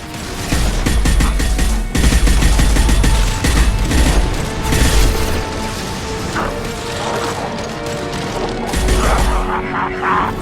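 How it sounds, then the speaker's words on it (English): High-impact shot weapon fire in the Mass Effect 2 video game comes as loud mechanical bursts and heavy crashing impacts in quick succession, with whirring, ratcheting clatter between shots and no voices. "Firing a high-impact shot!"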